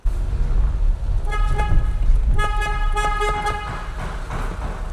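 A car horn honks in two bursts, a short toot followed by a longer blare, loud and close over rumbling engine and road noise, on a used car that had AdBlue put in its fuel tank.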